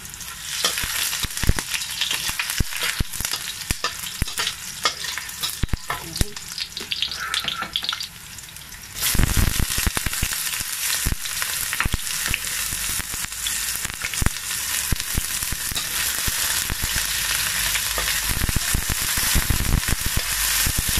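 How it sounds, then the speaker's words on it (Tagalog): Garlic fries in oil until golden brown for Tagalog pinakbet, a dense crackling sizzle that grows louder and fuller partway through, with a few faint clinks and no voices. "pinag-golden brown ko ng konti yung bawang para matangin"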